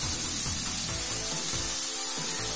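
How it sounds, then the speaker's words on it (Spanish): Chopped garlic frying in a little oil in a pan, soon joined by finely diced onions, giving a soft continuous sizzle with faint scraping, steady and moderately close. "En una sartén con un poco de aceite, vamos a añadir el ajo picado"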